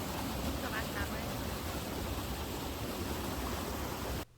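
Steady broadband rush of a waterfall at the end of a trail in Middlefield, Massachusetts, loud and constant from close by, cutting off abruptly at the end.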